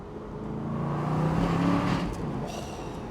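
Aston Martin V8 Vantage driving, steady deep V8 engine drone that swells slightly mid-way then eases, close and continuous with no talking.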